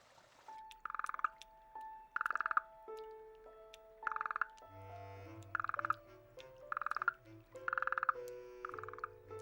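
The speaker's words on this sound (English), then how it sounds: "the burrowing frog awakes from its long sleep." A burrowing frog croaks in repeated short bursts, several calls spaced through the clip, fairly close and clear against a quiet background with a low hum.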